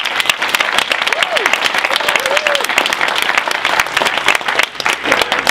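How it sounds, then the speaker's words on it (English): Loud, sustained audience applause at a sales culture event, a dense continuous burst of many hands clapping with occasional shouts and crowd voices mixed in. "I just want to give a round of applause."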